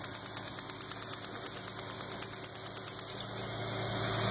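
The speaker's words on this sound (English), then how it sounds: "And now the engine's running perfectly." A Land Rover engine idles smoothly up close with an even, rapid rhythmic pulse that holds steady, then its pitch and loudness rise slightly near the end.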